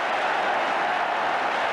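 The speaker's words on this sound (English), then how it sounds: "He's got them clapping and cheering." A football stadium crowd at a Portsmouth versus Millwall match claps and cheers after a goal in a dense, steady roar of applause.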